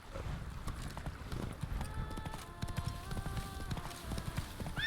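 Hooves from a galloping horse in the Witcher 3 video game beat in a fast, steady clip-clop rhythm throughout. A faint game music tone drifts in the background.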